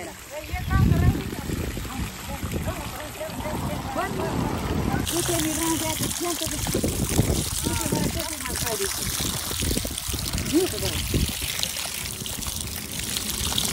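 Water gushes steadily at full flow the whole time, a loud continuous pour, with people talking over it.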